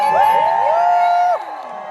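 Festival crowd at an evening chili-eating competition screams and cheers loudly for over a second, with rising whoops and shouts that cut off abruptly, leaving a quieter murmur.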